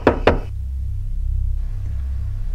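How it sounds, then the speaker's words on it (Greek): Two sharp knocks on a door land close together at the start, then give way to a low, steady ambient rumble in a quiet room. "Είναι η στιγμή που κάποιος χτυπάει την πόρτα."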